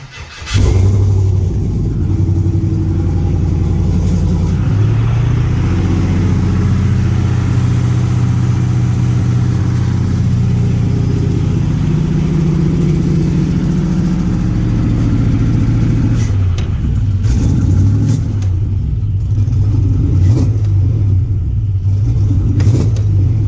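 An LS-swapped Jeep JK engine runs loud and steady close by, holding a rough idle and then revving up in repeated pulls, with a brief drop in level before it settles back to idling.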